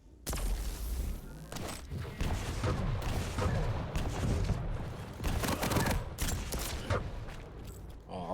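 Rapid rocket launcher fire and explosions in a Quake duel match, dense bursts of blasts and game effects running continuously and loud, with the occasional faint voice beneath.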